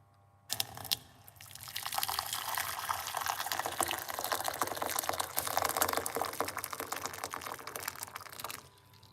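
Hot water pours steadily into a cup or pot for several seconds while a natural cold-and-flu tea is being made at home, giving a close, continuous splashing stream that fades out at the end.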